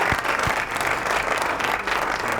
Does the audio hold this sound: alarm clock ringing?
no